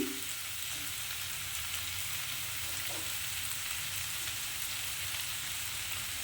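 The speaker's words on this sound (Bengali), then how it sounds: "একটু যখন পেঁয়াজগুলো এরকম ভাজা ভাজা হয়ে যাবে" Onions frying in a pan, a steady, close sizzle that runs throughout with a few soft stirring scrapes.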